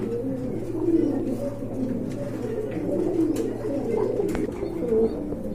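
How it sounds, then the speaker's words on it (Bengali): Several pigeons held for sale coo continuously nearby in low, rolling, overlapping calls, with faint background noise. "আরেক জোড়া কবুতর দেখতে পাচ্ছেন, মাশাআল্লাহ খুবই সুন্দর"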